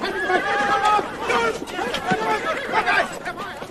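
A big black horse neighs in a shrill, wavering whinny, close by and loud, with people chattering around it.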